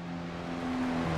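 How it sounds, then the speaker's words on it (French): A car engine idles during a night police traffic stop in the video game Arma 3, with a steady low hum and faint harmonic drone, shifting slightly in pitch near the end. "je veux pas entendre le moteur tourner."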